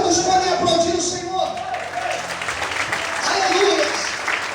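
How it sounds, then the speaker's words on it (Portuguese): A church congregation claps together in a broad, swelling wash of applause that dips and rises again over a few seconds, with voices mixed in. "Quantos podem aplaudir o Senhor?"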